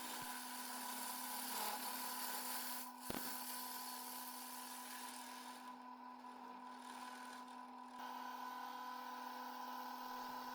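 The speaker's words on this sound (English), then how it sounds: "I'm using this Forstner bit to help with the hollowing out." A Forstner bit in a power tool bores into wood to hollow out the centre of a live-edge piece, giving a faint, steady tonal whine with a soft grinding hiss and one sharp click partway through.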